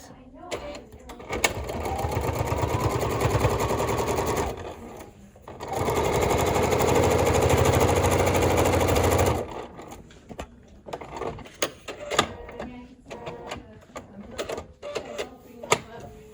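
A sewing machine stitching a mini charm bag runs in two sustained, loud whirring bursts of rapid mechanical stitching, separated by a short pause, followed by lighter clicks and handling noises.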